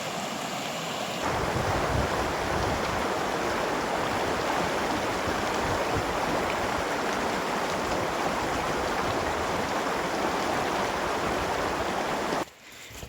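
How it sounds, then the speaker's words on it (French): River crossing on foot on a hiking trail, with loud, steady rushing water filling the scene close by, broadband and continuous, plus some wind noise, ending abruptly. "Et encore une rivière à traverser, la deuxième de la journée."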